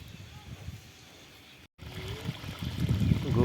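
Water from a farm pump motor pours and trickles steadily into a village field, growing louder toward the end, with a brief dropout midway and talk faintly underneath.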